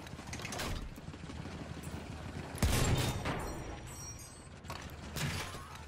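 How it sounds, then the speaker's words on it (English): Enemy machine gun fire rattles in a Battlefield 1 battle, mid-distance bursts mixed into dense combat noise with a louder blast near the middle. "Machine gun, one of theirs."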